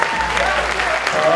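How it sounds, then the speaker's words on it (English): Applause from a karaoke crowd in a classroom setting, dense, loud clapping that fills the whole moment, with some voices mixed faintly underneath. "Round of applause for us."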